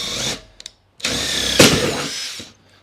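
Power drill boring holes for a soft wash setup, two loud bursts of whirring with a brief tap between, close by and without talk.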